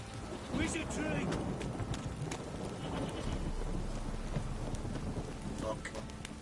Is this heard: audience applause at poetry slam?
no